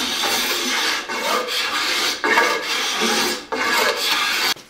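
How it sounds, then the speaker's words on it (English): A draw knife used as a scraper rasps along the wood of a longbow being tillered, a steady run of close, dry scraping strokes with brief breaks between pushes. "I'm gonna stop taking wood off with the draw knife like this, and I'm just gonna start using it as a scraper"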